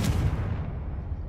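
A single Confringo blasting curse explosion in Hogwarts Legacy, a sharp booming blast that decays into a rumbling tail.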